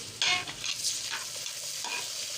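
Onions and tomatoes frying in a pan for a dhaba-style mixed vegetable dish, a steady close sizzle with brief stirring scrapes on top and no voices.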